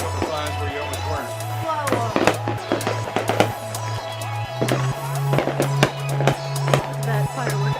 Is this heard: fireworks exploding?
yes